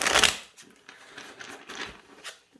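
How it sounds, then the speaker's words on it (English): Crisp riffling of a thin-cardstock tarot deck, a sharp burst of fluttering flicks at the start, then softer shuffles and card taps, close by and fairly quiet. "I'm just going to see how it riffle shuffles as a deck"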